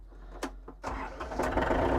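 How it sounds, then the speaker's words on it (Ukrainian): A few clicks and a short crank, then the diesel engine of an ISEKI TA287 tractor catches and settles into a loud, steady rumbling idle close by. "Завівся трактор добре, скидаємо до нормальних обертів."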